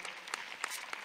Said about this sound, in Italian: applauso da Monselice